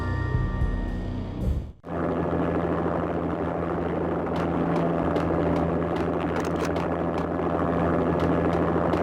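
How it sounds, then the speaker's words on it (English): Armed helicopter landing on manor grounds in the PS2 game Max Payne, a loud, steady rotor and engine roar with faint rhythmic blade chop, preceded by a brief cutoff. "An armed helicopter just landed on the manor grounds."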